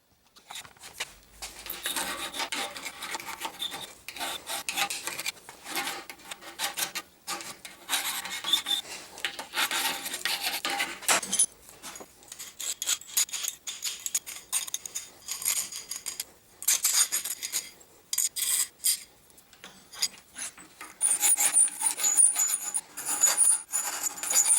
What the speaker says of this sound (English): So now it's time to go deburr all this stuff